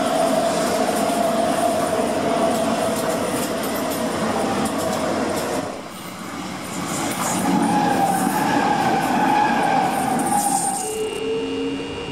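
A DB class 420 electric suburban train running on rails, a steady loud rolling roar with wheel squeal and rising motor whine, briefly dipping mid-run before continuing.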